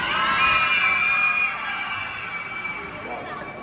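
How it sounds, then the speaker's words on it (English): An audience of children at a Brainiac Live show at Butlins Minehead screams in a loud, high-pitched crowd wash that peaks early, then eases off into a lower sustained roar. "Can you scream?"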